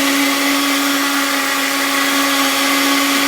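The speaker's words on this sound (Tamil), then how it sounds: "இப்போ நம்ம உளுந்த ஒரு மிக்ஸி ஜாரில் சேர்த்து அரைச்சிக்க போகிறோம்." Mixer grinder whirring steadily as it grinds urad dal without water in a mixie jar for medu vada, a loud continuous motor drone with a strong steady hum and no pauses or talk.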